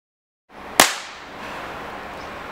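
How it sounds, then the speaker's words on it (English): A homemade thundercap packed with safety match contents explodes in a single sharp, loud crack, followed by a lingering hiss and rumble that fades slowly. "Now these thundercaps are ready for explosion tests."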